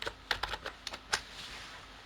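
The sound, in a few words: typing 'Facebook' on a computer keyboard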